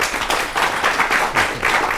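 A studio audience at a televised Hindi debate on farmers and the national budget claps in short, loud, rhythmic bursts of many hands, close and with no talk over it.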